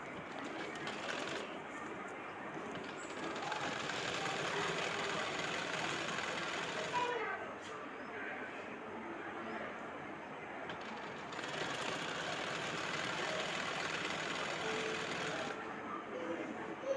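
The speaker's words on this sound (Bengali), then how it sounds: "তো আমি এভাবে একটা ভাঁজ দিয়ে সিলাই দিয়ে নিব" A sewing machine stitches a folded edge on an old pillow cover, running in three sustained bursts of fast, even rattling with short pauses between them.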